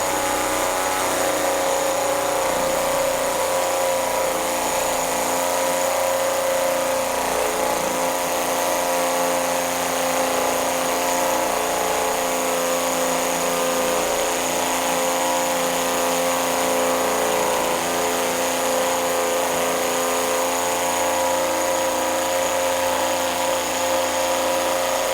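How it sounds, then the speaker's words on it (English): A Worx cordless hammer drill in hammer mode, on level 2, bores into brick with a continuous, loud, steady whining buzz and rapid hammering, running unbroken for about twenty-five seconds with no talk. "this whole chuck is moving up and down, hammering into the material that you're drilling"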